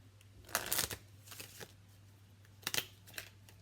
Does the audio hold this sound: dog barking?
no